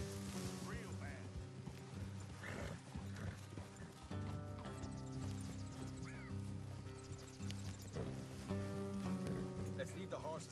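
Horses trotting with steady clip-clop hooves in the Red Dead Redemption 2 video game, layered under game music and a few snorts, with voices talking over the hoofbeats.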